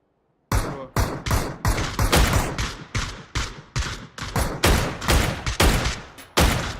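Loud, close gunfire in PUBG: a steady run of single heavy shots, roughly two or three per second, each with a sharp crack and short decaying tail, with no talking over it.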